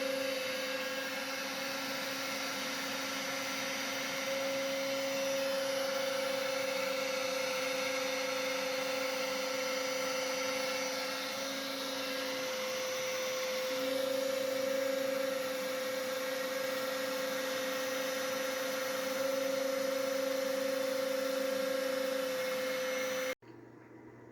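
A 5 hp CNC router spindle runs alongside a shop vac, giving a steady, loud whine over a broad rushing drone that holds for over twenty seconds and then cuts off abruptly near the end.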